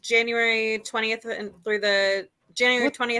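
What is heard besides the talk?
None of the usual background noises is heard.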